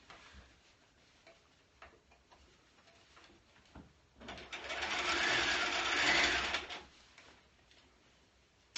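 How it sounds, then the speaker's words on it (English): A sewing machine stitches a coat lining to the coat, right sides together. Faint ticking comes first, then one steady whirring run of about two and a half seconds, close and clear, with no voices. "we're going to sew these right sides together, the lining into the coat right sides together"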